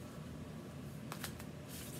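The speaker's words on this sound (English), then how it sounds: "And I'm going to shuffle these for you." Tarot cards are shuffled by hand, a few quick papery riffles and flicks bunched near the end over a quiet room hiss.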